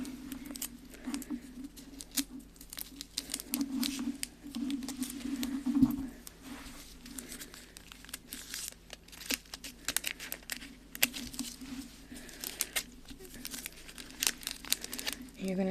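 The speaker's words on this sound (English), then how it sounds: "And then we're going to take our tape. Or double-sided sticky tape." Double-sided sticky tape is handled and torn at a DIY photo album project, with close crinkling, peeling and tearing bursts scattered throughout while a person talks over them.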